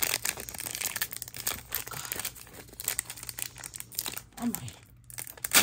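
A Panini Revolution basketball card pack is torn open, its foil wrapper crinkling and ripping up close in short bursts while people exclaim over it.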